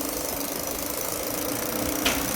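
A damaged car engine runs roughly with an uneven knocking, misfiring rhythm, a steady mid-level rumble heard close up with a brief sharper burst near the end.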